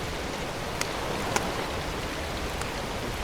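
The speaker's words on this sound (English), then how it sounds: "The storm's moving in." Steady rain from an approaching storm patters over a lake with grass beds, a dense even hiss throughout with a few sharper drops standing out.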